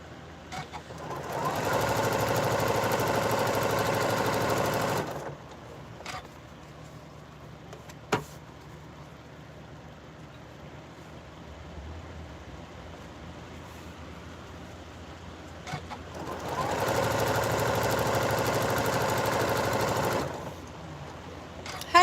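A sewing machine stitches fabric in two steady, even runs of a few seconds each, a close mechanical whirring hum, separated by quiet handling sounds and a sharp click.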